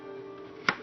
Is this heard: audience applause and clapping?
no